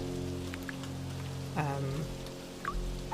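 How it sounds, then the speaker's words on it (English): Steady rain falls as a continuous close hiss, used as background ambience, with a faint tonal hum and a brief voice-like sound partway through. "It was raining before, that's why I put the rain sound on."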